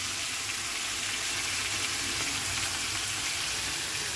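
A paste of ginger, tomato and chilli sizzles and fries steadily in a hot pan, a loud, even hiss that carries on without a break from start to finish.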